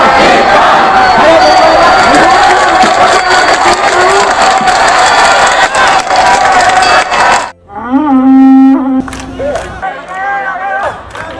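A protest crowd in central Tokyo shouts and chants at a demonstration, a loud dense roar of many voices that cuts off sharply partway through. A single raised voice then speaks over quieter background noise.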